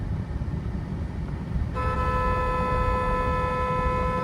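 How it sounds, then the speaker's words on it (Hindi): A car horn sounds partway through and holds as a sustained steady tone over low road and engine rumble. "ये हॉर्न है, यहाँ से कहीं से भी आप हॉर्न बजा सकते हो"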